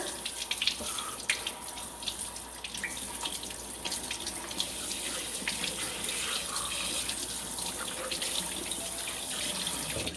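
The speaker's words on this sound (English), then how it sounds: "I just like to give the chicken a little bit of a washing over with cold water." Raw chicken rinsed under cold running tap water at a sink while making gluten-free chicken noodle soup: a continuous, close, fairly loud hiss and splash of flowing water with no talk.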